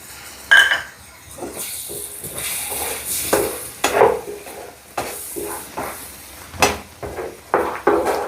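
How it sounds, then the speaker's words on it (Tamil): Tomato paste is poured into chicken in a pan, then stirred with repeated scrapes and soft clatter against the pan under a faint sizzle, loud and close. "இப்போது அரைச்சி வச்சுருக்கேன் தக்காளி பேஸ்ட்டை ஊற்றிடலாம்"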